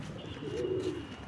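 A Bhorsa Munda pigeon, a high-flying breed, gives a single low throaty coo, close and fairly soft, against quiet background noise.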